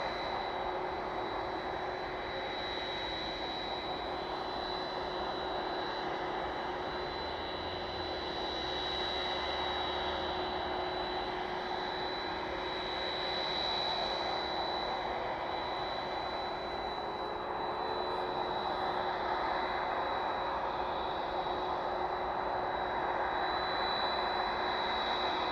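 Aircraft taxiing at East Midlands Airport, a steady distant engine roar with a high whine held throughout, no talk.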